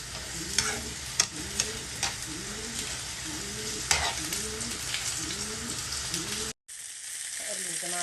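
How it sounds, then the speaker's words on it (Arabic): Eggplant, zucchini and cauliflower sizzle as they fry in a pan for maqluba with ground meat, with a regular scraping stir about twice a second over the steady frying hiss, close up and briefly cut off near the end. "هقلب يا جماعة مع البتنجان كوسة، قرنبيط، زهرة"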